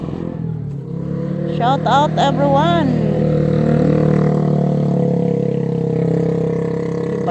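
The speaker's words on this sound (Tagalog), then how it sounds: "ang ingay ngayon ng motorsiklo guys" A motorcycle engine hums and revs nearby with a steady, rising drone while a person speaks briefly over it.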